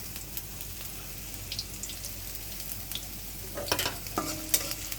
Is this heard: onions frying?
yes